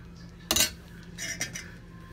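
A spoon mixing okra and shrimp creole into rice on a plate: one sharp metallic clink against the dish, then a softer scrape and a couple of light taps, close and fairly quiet, with no talking.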